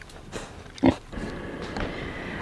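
Pigs in a farm pen, being trained to an electric fence, give a single short grunt followed by softer shuffling and ambient noise, heard alone at moderate distance.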